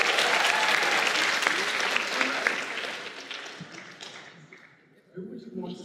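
Audience applause at an anime voice actors convention panel, a dense burst of clapping that gradually fades away before a voice resumes near the end.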